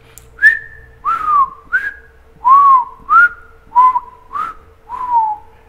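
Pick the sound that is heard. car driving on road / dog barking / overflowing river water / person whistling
person whistling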